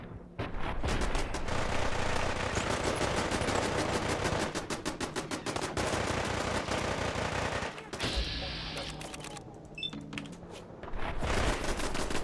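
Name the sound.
gunfire in the video game Fallout 4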